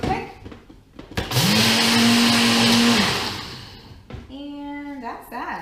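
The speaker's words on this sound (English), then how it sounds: "I'm gonna take it to my Ninja and I'm going to Ninja it real quick" A Ninja blender grinding flaxseed and garlic, a loud motor roar that starts abruptly, holds steady for about two seconds and stops, followed by a short second pulse, with a voice speaking before and after.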